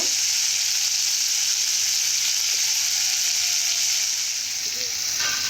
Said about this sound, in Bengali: উচ্ছেটাকে আমি ভেজে নেব